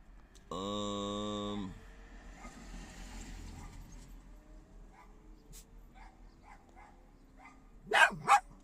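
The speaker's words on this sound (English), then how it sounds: "I hear them. They're just dogs." Dogs bark in the distance as a string of faint, spaced yips and barks, ending in two louder, nearer barks, after a brief sustained tonal sound at the start.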